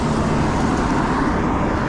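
A car on a country lane passes near a cyclist, a loud, continuous broadband road rush with engine and tyre noise filling the moment, steady throughout with no speech.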